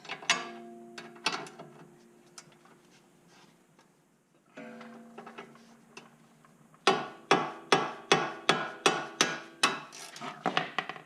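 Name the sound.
wrenching loose sway bar link on Ford Fiesta ST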